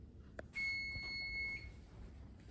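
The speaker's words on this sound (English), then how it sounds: "Timer." A kitchen timer sounds a single sustained high electronic beep lasting about a second, fairly quiet against a low room background, preceded by a short click.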